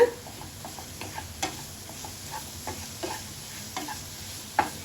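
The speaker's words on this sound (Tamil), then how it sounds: "அந்த இஞ்சி பூண்டு வாசனை எல்லாம் போகிற வரைக்கும் நல்லா வதக்கிக்கோங்க" Ground ginger-garlic masala for prawn gravy sautés in a pan, a soft steady sizzle broken by occasional spoon clicks and stirring scrapes, close and moderately quiet, with no talking.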